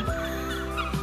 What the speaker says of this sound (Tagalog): At ito ang mga ibon, naglalakihang mga seagulls.